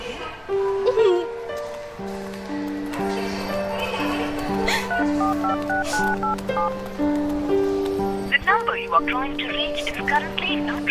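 A sequence of short electronic phone dialing beeps sounds one after another at a steady pace, layered over background music.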